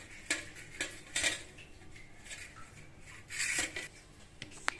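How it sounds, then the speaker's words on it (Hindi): Ghee is spread across a plate with a spoon, producing soft scraping rubs and a few light clinks of metal on the dish, close and quiet with short pauses between strokes. "अब मैंने यहाँ एक प्लेट लेनी है और इसके अंदर मैं अब लगा देती हूँ थोड़ा सा घी"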